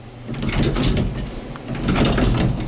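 A vintage ESCO hydraulic elevator's door slides shut with a low mechanical rumble and hum, swelling twice across a few seconds, close and fairly loud, with no talking.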